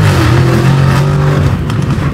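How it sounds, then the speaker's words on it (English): Lamborghini Urus SUV with a loud exhaust tune, engine revving hard nearby, a deep droning roar that climbs and falls in pitch and dominates the scene with no voices. "our fastest Urus, our loudest Urus"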